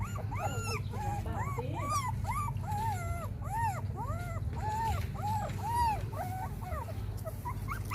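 Litter of newborn puppies whimpering and yipping continuously, a steady overlapping chorus of high, rising-and-falling cries close by over a low background hum.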